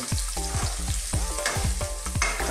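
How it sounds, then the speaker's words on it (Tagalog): Garlic and ginger frying in oil in a pan, a loud close sizzle with rapid rhythmic clinks and scrapes of a spatula stirring, and no voices. "Pakulayin lang po natin ang ating bawang at ang luya."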